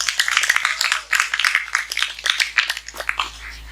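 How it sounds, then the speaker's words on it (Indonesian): Audience at a village religious gathering (pengajian) in Dusun Jatibarang, Sindangan, clapping for the event organizers, a dense, uneven burst of hand claps that continues steadily for several seconds. "tepuk tangan dulu dong buat panitianya"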